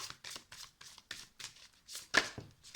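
Tarot cards are shuffled and drawn by hand in a quiet room, making a series of about ten quick, crisp riffling bursts in a steady rhythm, close and clear.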